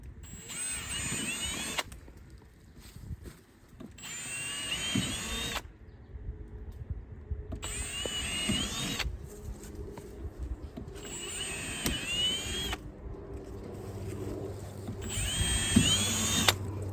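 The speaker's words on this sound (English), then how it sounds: "Now he's drilling holes in this pipe." A power drill whirs in several bursts of a second or two each, separated by pauses, drilling holes in a pipe, with scraping and handling noises close by.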